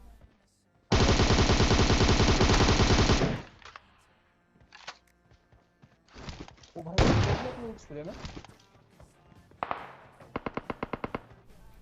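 Gunfire in PUBG Mobile: a long, loud, rapid automatic burst opens the clip, followed by shorter bursts and scattered shots, with someone talking over and between the firing.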